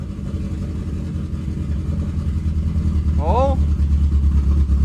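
Subaru Forester with a swapped-in forged STI engine running at a steady, fairly fast idle, a continuous low rumble close up, with a short exclaimed word over it.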